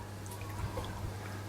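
A pump circulates brewing water through a homebrew rig while a 2000-watt element heats it, giving a steady low hum with soft trickling and splashing water over it; no talk.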